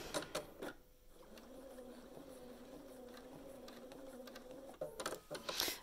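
A sewing machine runs in short bursts during free-motion thread painting of a mandala with Aurifil threads, a faint steady motor hum of about four seconds framed by clicks and handling noises.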